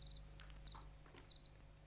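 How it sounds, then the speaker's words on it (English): Cricket chirping sounds played back through a phone speaker: short bursts of high, rapid trilling pulses repeat several times over a steady hiss, faint and thin with no voices present. "playing cricket chirping sounds on my phone"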